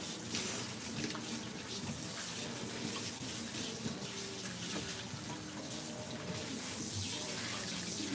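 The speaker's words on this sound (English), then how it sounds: "We could try to start rinsing this part off. Get him used to that water around his head." Tap water streaming and splashing over a Siberian cat being rinsed during a lion-cut grooming session, a continuous close wash of running water with no talk.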